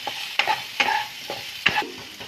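Potatoes seasoned with salt and turmeric are stirred in a frying pan, a few sharp scraping strokes over a soft sizzle, close and alone with no talking.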